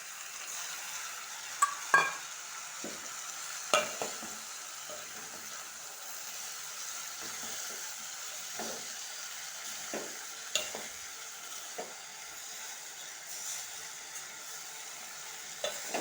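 Ridge gourd and tomato curry sizzles gently in a pan while a spoon stirs it, soft continuous frying hiss punctuated by scattered scraping clicks against the metal, with no speech.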